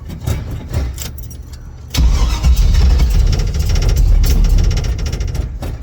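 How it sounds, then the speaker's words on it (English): A 1979 Camaro with a supercharged small-block V8 cranks and fires on a cold start, the starter whirring for two seconds before the engine catches into a loud, rough, lumpy idle up close. "let's see how she does on a cold start"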